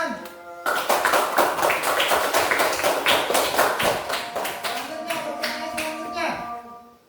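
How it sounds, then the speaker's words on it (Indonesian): A class of children claps hands together during a primary school religion lesson, producing a brisk, dense run of sharp claps close by for several seconds before tapering off. "Beri dulu tepuk tangan."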